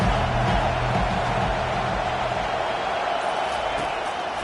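Steady stadium crowd noise from a college football video game, Tennessee at Ole Miss, a loud continuous roar and cheer filling the whole stretch on a third down, with faint voices mixed in.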